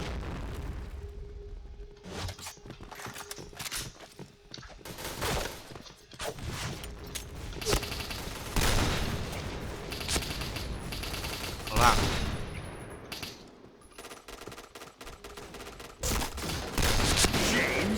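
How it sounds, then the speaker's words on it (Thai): Shotgun blasts and other gunfire in the online shooter Point Blank, with heavy booming shots at irregular intervals amid a busy battle, some bursts louder and closer than others, and a voice talking in places. "เสียงลูกซอง"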